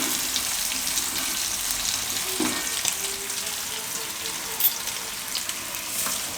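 Potatoes for dum aloo cook in a pan over a low gas flame, sending up a loud, continuous close sizzle with light crackling and a faint scrape or two, no voices over it.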